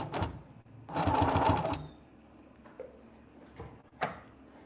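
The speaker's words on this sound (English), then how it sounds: "As I'm sewing, just to kind of make it nice and even." A sewing machine stitching fabric for a Christmas satchel runs in a short, loud burst, followed by quieter handling clicks and a brief second whir, close up.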